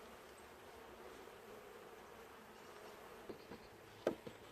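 Bees buzzing around an opened beehive while it is being closed up for winter, a faint, steady swarm hum with a couple of brief knocks near the end.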